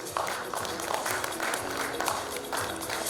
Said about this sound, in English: Everyone, can we have a round of applause, please?